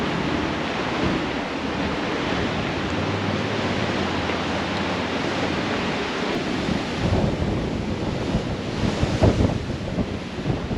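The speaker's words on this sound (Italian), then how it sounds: "Vento pazzesco." Strong wind roars steadily across the microphone alongside the rush of surf at the seashore in Tres Lagos, Argentina, a loud, continuous blustery noise with no voices.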